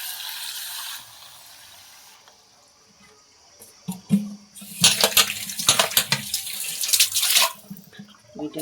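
Jamun fruits rinsed under running tap water, a steady faucet stream with splashing and the clatter of fruit being handled in the water, growing busier and louder partway through.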